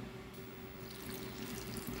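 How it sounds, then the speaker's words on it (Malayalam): Water is poured into a pressure cooker holding pieces of ash gourd and elephant yam, making a soft, continuous trickle and splash heard faintly and alone. "ഇനി കുറച്ച് വെള്ളം ഒഴിക്കാം"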